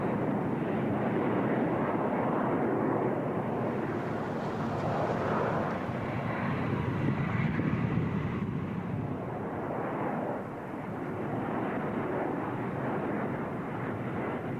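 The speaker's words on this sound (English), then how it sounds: "Now, something that the Red Arrows also do, an amazing jippo brake." A Red Arrows jet roars through a display manoeuvre at an air show, a broad, sustained engine rumble that swells and eases over several seconds without any talk.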